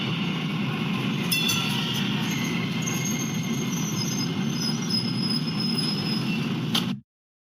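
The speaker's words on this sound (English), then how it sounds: "As you watch, pay attention to how the train slows and stops." A rail train rolls along, then slows and stops, its steady rumble carrying a few sharp high wheel squeals and clicks before the sound cuts off abruptly.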